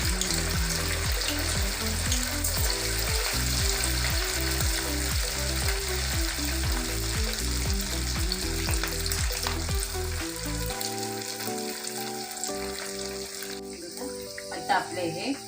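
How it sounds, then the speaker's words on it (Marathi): Sabudana vada deep frying in oil on a low flame give a steady, close sizzle throughout, under background music. "आपलं टाकलेलं आहे त्याच्यात आपण आता हे वडे सोडून फ्राय करायचे."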